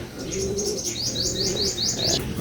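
Pigeons in a loft, with several repeated chirping coos in quick succession close by and a low background murmur, no talk.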